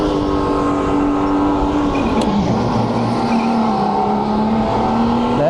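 Racing kart in a winter league heat, driven on track with cold front tires, engine droning loud and steady close by, pitch rising and dipping with throttle lifts, a brief tire squeal mid-run.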